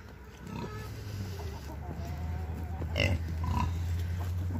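Pigs on a farm grunting at feeding time, a steady low rumble of grunts and snorts with a sharper squeal near the middle, close and continuous over farmyard noise.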